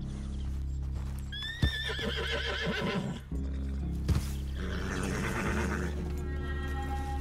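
Horses whinny loudly several times over a steady clip-clop of hooves, with sharp thumps and a droning musical bed throughout.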